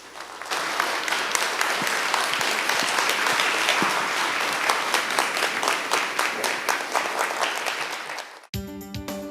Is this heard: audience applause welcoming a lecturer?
yes